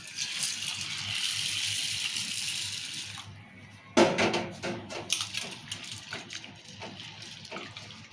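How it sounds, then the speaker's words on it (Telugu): Half a kilo of chana dal is being washed with water in a bowl, first a steady pour and swish, then wet grains rattling and splashing in irregular bursts, close up, with no talking. "శనగపప్పు మంచిగా కడుక్కోవాలి"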